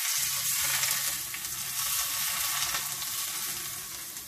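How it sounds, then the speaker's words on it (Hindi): Very hot ghee for tempering haleem sizzles loudly and steadily in a pan, a dense bright hiss with small crackles that fades slightly over a few seconds, with no voices. "अब इसको घी से बघार देंगे। घी को बहुत गरम करना है।"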